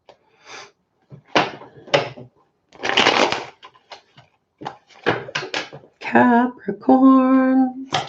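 Tarot cards shuffled by hand in bursts of riffling and soft slaps, several separate passes with short pauses between, close and fairly loud, with a voice talking briefly near the end.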